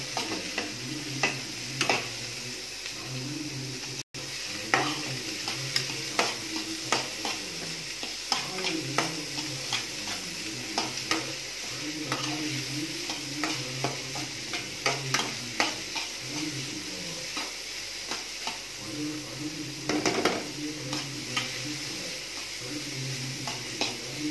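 Chayote (chow chow) pieces sauté in a pan for chutney, with a continuous low sizzle and repeated spatula scrapes and taps against the pan throughout, close and busy.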